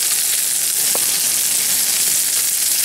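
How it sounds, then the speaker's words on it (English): Suckling goat meat sears in a hot skillet with rendered fat and onion, a loud continuous close hiss of sizzling fat with one faint scrape partway through. "We're gonna pan sear them"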